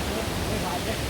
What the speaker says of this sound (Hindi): ये है हमारे छत्तीसगढ़ के झरना।